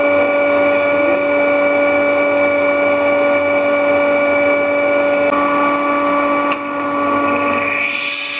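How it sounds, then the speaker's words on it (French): A steady mechanical whine with constant tonal hum runs throughout from a table saw making a 12 mm pre-cut, loud and continuous with no voices. "Donc première étape, une pré-coupe à la scie"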